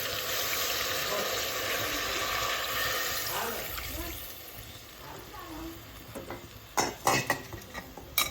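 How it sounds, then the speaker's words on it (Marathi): Water is poured into a cooking pot for homemade chicken curry, a splashing rush that settles into quieter bubbling, followed by sharp clinks of utensils against the pot. "पाणी टाकूया"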